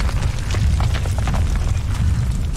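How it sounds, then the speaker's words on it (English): A cave explosion in the 2013 Tomb Raider video game gives a loud, dense, rumbling boom that roars continuously with crackling bursts throughout, with no voices. "There's a reason why you don't introduce explosions in caves."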